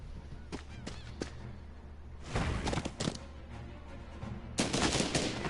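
Gunfire in the strategy game Banner of the Maid: a few quick separate shots early, then heavier crackling volleys in two louder bursts over a low ambient hum.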